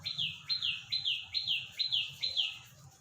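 Sparrows chirp in a quick, regular series of about seven bright notes, close and clear over a faint low background hum, near a rooftop home garden.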